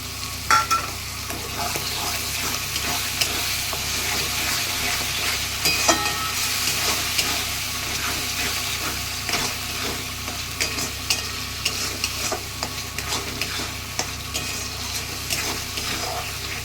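Tomato paste fries in a pan with mutton fat and potatoes, a dense continuous sizzle and crackle at close range with small scattered pops, no voices over it.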